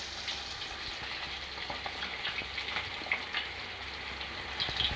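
Fish fries in hot oil in a pan in a home kitchen, giving a continuous close sizzle with scattered crackles and occasional stirring scrapes, no voices.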